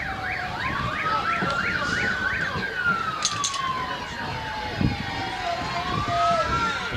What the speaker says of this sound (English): This is a West Bloomfield police car.